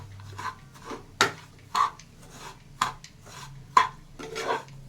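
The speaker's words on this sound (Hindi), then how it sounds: "सारा मिक्स कर लेंगे इसी में मैश करके।" A spoon mashing and mixing semolina into mawa in a pan, about seven distinct scraping knocks against the pan at an uneven pace, close and alone.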